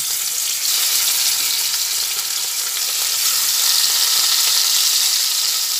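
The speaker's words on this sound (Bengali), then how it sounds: "এবারে মাছটা এক এক করে তেলের মধ্যে দিয়ে ভেজে নিচ্ছি।" Bata fish pieces fry in hot oil in a kadai, a loud, steady, hissing sizzle that holds evenly throughout with no talk.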